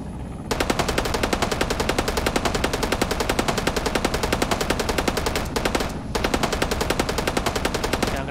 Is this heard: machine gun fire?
yes